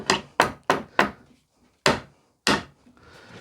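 Hammer striking bent nails straight on pallet wood, six sharp close wooden thwacks, the first four in quick succession and then two more spaced out, with quiet gaps between.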